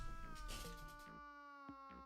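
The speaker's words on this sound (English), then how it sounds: "I actually think I hear my cat now" A pet cat meows loudly and close by, a long wavering cry over a noisy background, then two short, sharp meows follow in the quieter stretch after it.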